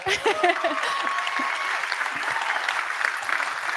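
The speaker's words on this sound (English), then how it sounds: "So tonight, I applaud each of you. We can clap." Audience applause fills the hall after a speech, a dense steady wash of many hands clapping at close range for several seconds with no talk over it.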